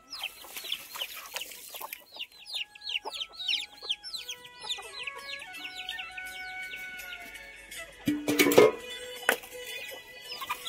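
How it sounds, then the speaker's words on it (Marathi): Free-range village hens cluck and chirp in a rapid, overlapping chorus close by, with a louder burst of squawking near the end. "ह्या सगळ्या घरच्या कोंबड्या आहेत."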